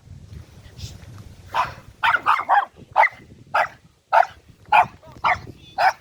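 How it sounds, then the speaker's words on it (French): An aggressive dog barks about ten times in sharp, close bursts, some quick and clustered, others spaced apart, as it attacks someone on a rural road in Brittany, with low rumbling in the background. "Oh, je me suis fait attaquer par le chien, en direct."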